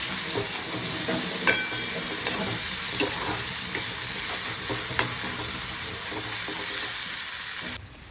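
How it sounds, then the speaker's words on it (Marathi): Onion frying in oil in a kadhai, a steady close sizzle and hiss with occasional stirring clicks, with no talk. "कढईमध्ये तेल टाकून कांदा थोडा वेळ परतून दिला"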